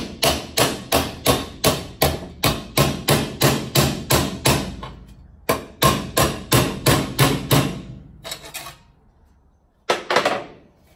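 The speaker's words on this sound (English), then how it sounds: "a little bit of a tap with a hammer along the line." Rapid, evenly spaced hammer taps along a line on the metal body of a 1964 Pontiac Parisienne, close and loud, in long runs broken by short pauses and a final burst.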